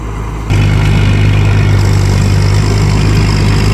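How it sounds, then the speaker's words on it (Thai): Crawler tractor engine running without load in a muddy rice paddy: a loud, steady, low droning hum that swells suddenly after a brief quieter start and then holds constant, close by. "เสียงเครื่องไม่มีโหลดเลยนะครับ"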